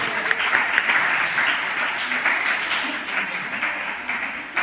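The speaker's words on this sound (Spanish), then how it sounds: "Un aplauso, por favor." Audience clapping for prize winners at a church Bible study gathering, a brisk moderate-sized round of applause with a few sharper individual claps, steady then tapering slightly.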